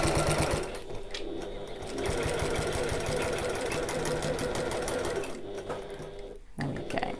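A sewing machine runs a continuous stitching burst along a seam for several seconds, slowing briefly near the end before picking up again.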